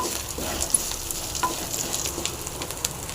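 Snake gourd frying in a pan, a soft steady sizzle with light scraping and stirring throughout, no voices.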